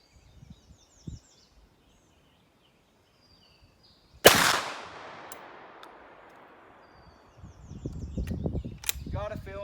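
A single loud, sharp crack from a 16 gauge shotgun loaded with buckshot at an outdoor range, with a long decaying echo after it, then quiet talk and faint birdsong.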